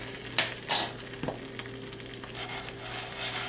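Grilled cheese sizzles in melted butter in a pan, a steady crackling fry with a few sharper pops and clinks, no voices over it.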